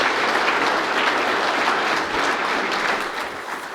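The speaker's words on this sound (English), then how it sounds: "you might join them with me in giving them a round of applause" Audience applause at a national student awards ceremony for technology teachers, a dense, steady wash of many hands clapping at close range, sustained throughout and tapering slightly toward the end, with no voices over it.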